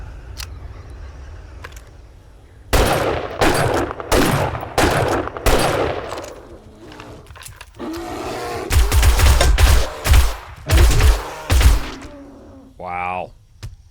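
Gunfire against a zombie bear in the survival game 7 Days to Die: a run of loud, close single shots, then a faster cluster of heavy blasts, ending in a brief growl, with a voice talking over parts of it.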